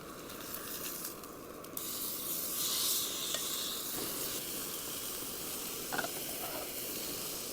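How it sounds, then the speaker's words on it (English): Oil heating in a Jetboil Summit Skillet on a camping stove outdoors gives a steady, soft sizzle and hiss with a few brief clinks, and no voices. "Just let that oil heat up a bit."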